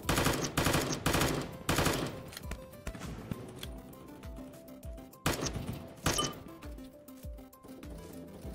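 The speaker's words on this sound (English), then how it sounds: "this sort of assault rifle is kind of overpowered" Rapid assault rifle fire rattles in the blocky shooter game voxiom.io, with loud bursts at the start and again later, separated by quieter stretches of scattered shots and clinking sounds.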